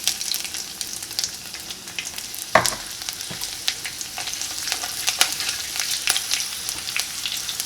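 Ginger and green chillies frying in hot oil for a shallot curry give a steady, close sizzle with crackling pops and a sharp spatter burst near the start, with no voices.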